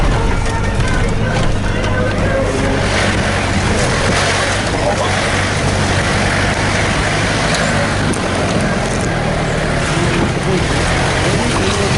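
Steady engine and road rumble from inside a Mitsubishi Pajero on a rural road near Lake Baikal, Siberia, a continuous broadband drone with rattling and occasional faint voices underneath.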